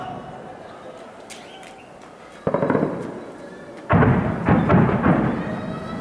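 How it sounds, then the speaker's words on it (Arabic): Shelling strikes hit the city of Hama, Syria, with two heavy blasts a second or so apart, each followed by a long rumbling roar, loud against a constant outdoor background. "قصف على مدينة حماة"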